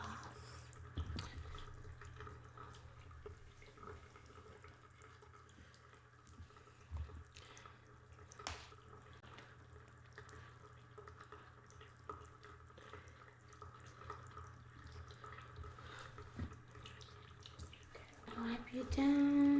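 Tap water runs quietly for washing a face during a skin-care session, a faint steady low stream with small splashes and a louder burst near the end.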